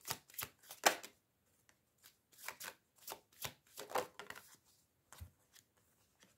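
Playing cards are shuffled and drawn in a quiet room, giving a handful of short riffling bursts and soft card snaps spread unevenly across the moment.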